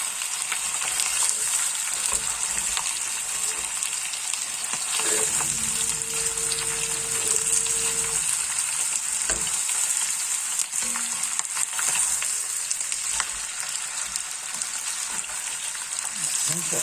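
Pieces of rabbit browning in a hot pan for an old-style lapin chasseur, a continuous close sizzle and crackle with occasional stirring and scraping, low murmurs of a voice now and then.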